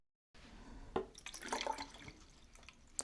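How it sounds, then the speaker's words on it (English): Water from a leaky water gun is emptied into a measuring cup, faint close trickling and dripping with small irregular splashes, heard alone after a short silence. "I'll empty the water"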